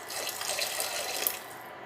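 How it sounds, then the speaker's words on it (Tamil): A steady stream of water runs and splashes into a soup pot on an infrared cooker, continuous and fairly loud throughout. "நான் கொஞ்சம் தண்ணி ஊற்றுறேன்"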